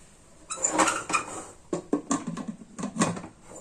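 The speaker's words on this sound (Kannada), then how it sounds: "ಕುಕ್ಕರ್ ಮುಚ್ಚಳನ ಮುಚ್ತಾ ಇದ್ದೀನಿ" A pressure cooker lid is set on and closed in a home kitchen, giving a few close metallic clanks and scrapes in short bursts over a few seconds, with no talking.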